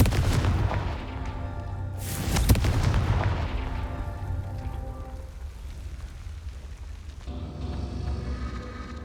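Explosive blasts of the Confringo fire spell in the video game Hogwarts Legacy, two loud booming bursts in close succession followed by a crackling, rumbling decay and a softer third impact near the end, with no talk.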